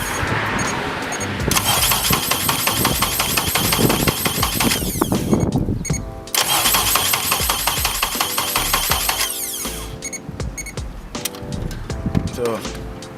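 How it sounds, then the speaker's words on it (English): A 2011 Honda Civic Si with a no-crank fault cranks and starts after a starter fix, a long, loud, churning stretch of engine noise up close, with brief breaks and uneven bursts toward the end. "it should crank over"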